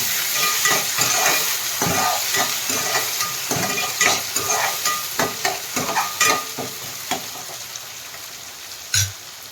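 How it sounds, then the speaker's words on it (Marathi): Chicken sukka masala with tomatoes sautés in a pan with a steady, close sizzle, broken by a run of sharp, rhythmic scrapes and knocks from stirring, and no talking. "थोडं लाल होईपर्यंत याला परतून घ्यायचंय"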